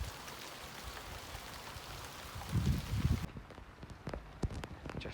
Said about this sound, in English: Just won't stop raining.